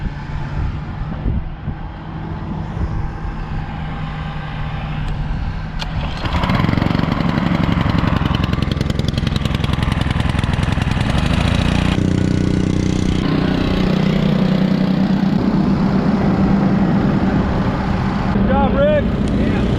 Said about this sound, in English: Here comes Rick in the 340 of the pull chisel.